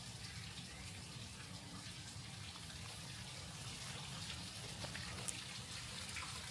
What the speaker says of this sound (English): It's flying like a waterfall.